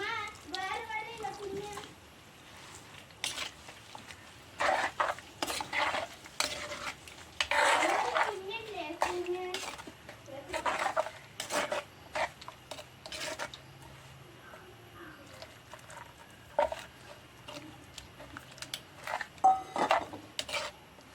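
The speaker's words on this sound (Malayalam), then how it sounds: "ഇനി നമുക്ക് ഇതിലേക്ക് തേങ്ങാപ്പാൽ ഒഴിച്ച് കൊടുക്കാം." Coconut milk goes into a home-cooked Kerala fish curry and gets stirred in the pot, with scattered scrapes and clinks of a spoon against the vessel and a voice chattering intermittently in the background.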